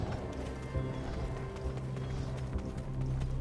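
A horse running in the video game Black Desert Online, its quick rhythmic hoofbeats pounding steadily under a low game background hum, with no talking.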